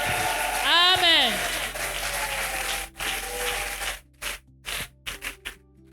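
An Easter Sunday church congregation acclaims Jesus, with loud applause and cheering filling the first four seconds and voices whooping over it, then fading into scattered short claps.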